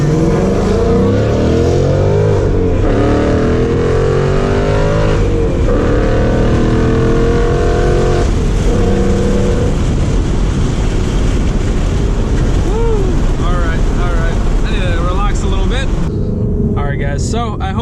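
A manual-transmission car pulls away and accelerates hard, its engine note climbing through revs with breaks for gear changes, loud and close, while a voice talks over parts of it.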